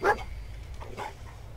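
A dog in Fallout 4 gives a single short, sharp bark at the start, close and moderately loud, followed by faint low ambient game sound.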